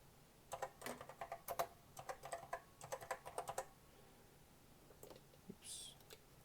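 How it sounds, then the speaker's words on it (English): Keys clatter on a 1986 Apple Macintosh Plus keyboard in two quick bursts of typing, quiet and close, followed by a pause and a few scattered clicks. "So if we type in here,"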